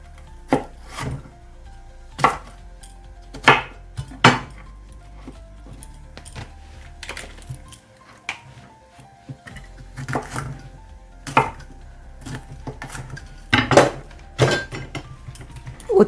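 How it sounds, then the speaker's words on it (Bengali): Bitter gourds are sliced lengthwise with a knife on a board, giving a series of sharp, close knocks spaced a second or two apart with quiet gaps between. "লম্বা লম্বি করে কেটে নেব।"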